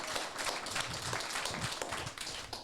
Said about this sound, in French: on l'applaudit bien fort, Yann